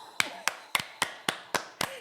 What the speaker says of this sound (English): You guys give a hand clap for Big Shay coming back to work.